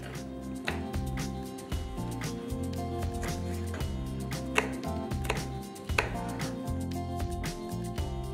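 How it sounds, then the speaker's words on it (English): Rapid knife chopping of green chilies on a cutting board, crisp repeated taps in an uneven rhythm, close up, with steady background music underneath. "Once done, I am chopping off the chilies into smaller pieces."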